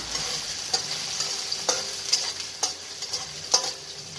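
Food sizzling in a pan with garlic, a continuous bright hiss punctuated by regular scraping strokes of a spatula stirring, close and alone.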